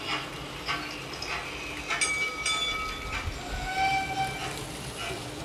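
A small toy train rattles and clicks along its track, with short high tooting tones sounding intermittently over the steady clatter.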